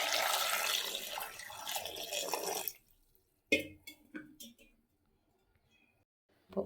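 Water rushes steadily for a few seconds as it is poured into a cooking pot for sambar, then stops, followed by a few scattered clinks and drips in near silence.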